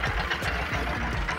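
Fishing trawler engines idling at a harbour near Bakkhali, a close, continuous low diesel rumble with a faint rhythmic throb, heard alone for a brief moment.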